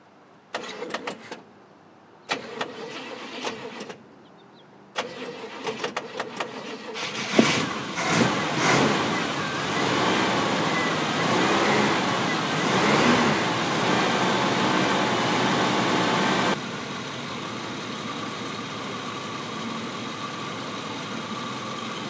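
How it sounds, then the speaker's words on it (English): A 1969 Chevrolet Impala V8, started for the first time in years with a suspect carburetor, cranks in several short bursts, then catches and runs loud and rough before settling into a steadier idle. "Look at that, it's idling."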